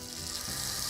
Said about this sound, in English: Let's get the chicken cooking because the pan is now hot and ready.